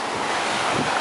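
Sea waves breaking on a Malaysian shore, a loud continuous wash of surf with gusty wind buffeting the microphone.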